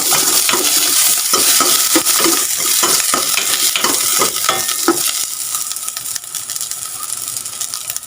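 Onion and garlic sautéing in a hot pan, a steady loud sizzle with repeated scraping stirs and clinks throughout, no voices.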